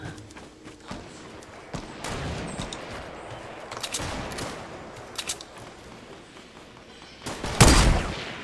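Sniper rifle shots in a Fortnite match sound in scattered cracks, mostly moderate and somewhat distant, with one loud close blast near the end while players chatter faintly.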